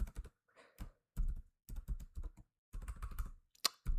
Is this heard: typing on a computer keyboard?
yes